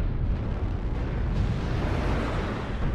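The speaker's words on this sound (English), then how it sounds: "Artillery strike activated." An artillery strike in MechWarrior Online lands in a heavy, continuous roar of explosions, a loud, dense rumble of overlapping blasts that stays strong for three seconds with no talking.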